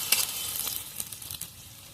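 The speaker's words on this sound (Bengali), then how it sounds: "মশলাটা ভালোভাবে কষিয়ে নেব।" Spice paste for a soybean and potato curry fries in a pan, with crackling sizzle and bright spattering bursts over a low bubbling bed. Occasional sharper pops stand out, and nobody speaks.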